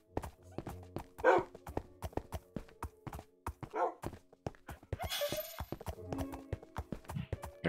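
Minecraft horse hooves clip-clop in a quick rhythmic run while game dogs bark in short bursts nearby, along with a few game thunks and rustles, all fairly faint and with no voices.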